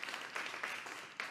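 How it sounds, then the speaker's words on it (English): A studio audience at a live interview series in New York claps briefly, soft and somewhat distant, with a few sharper hand accents standing out from the patter. "round of applause for how amazing of a dancer this guy is real quick"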